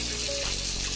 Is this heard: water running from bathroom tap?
yes